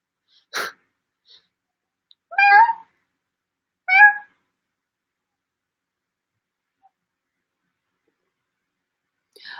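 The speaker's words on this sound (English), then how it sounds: "Cat!" A cat gives a few short, faint meows spaced apart in a quiet indoor room, with a brief sniff-like sound at the start and near silence between calls.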